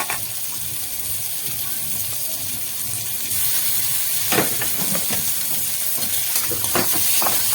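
Ground garlic and green chilli paste frying in a pan with goat fat, a constant sizzling hiss that grows louder partway through, punctuated by sharp spatula scrapes against the pan.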